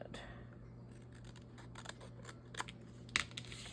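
Scissors trimming a paper craft tag make a few faint snips, one sharper cut near the end, heard close in a quiet room over a low steady hum.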